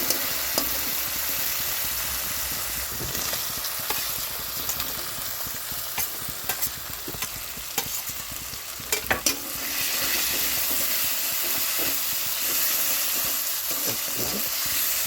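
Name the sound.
fried potato and bitter gourd stirred in pan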